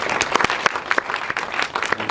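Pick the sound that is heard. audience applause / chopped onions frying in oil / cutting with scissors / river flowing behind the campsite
audience applause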